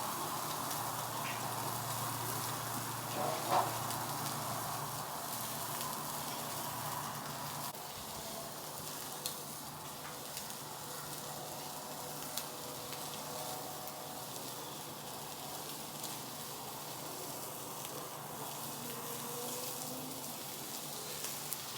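Tri tip steak searing directly over an open fire, giving a steady faint sizzle and crackle like light rain that runs the whole time with a few small pops.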